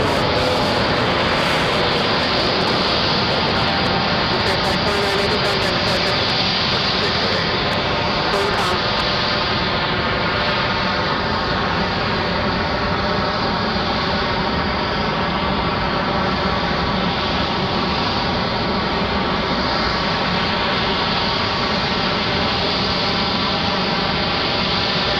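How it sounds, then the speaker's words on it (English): A Frontier airliner departs Raleigh-Durham International, a loud continuous broadband jet roar filling the whole stretch without letup, close and dense. "Frontier rotating early. Nice early departure for them."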